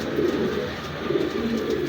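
Maxi knot breed pigeons coo softly nearby in a few low, rolling throaty phrases that swell and fade over a couple of seconds, with no speech.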